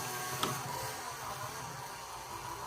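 A LEGO Creator 3in1 Fairground Carousel (set 31095) running motorized gives off a steady, soft mechanical whir and gear rattle, with one small click near the start, close up and without talk.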